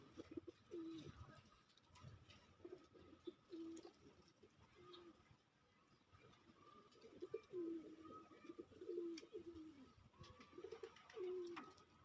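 Pet pigeons coo in soft, low, repeated phrases at a moderate distance, several rounds of throaty cooing spread across a quiet background.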